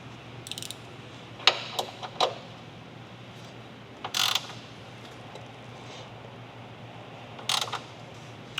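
An 18mm coilover bolt on a Porsche 992 Carrera fitted with Ohlins Road & Track coilovers is snugged with a ratchet, giving a few brief, quiet clicking bursts spaced apart over a low hum.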